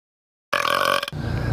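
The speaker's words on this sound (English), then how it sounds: "you kind of pull in air and a big old burp comes out" One loud, close belch from a person swallowing air to force it out, a single rough burst lasting about half a second after silence, followed by quieter low rumbling.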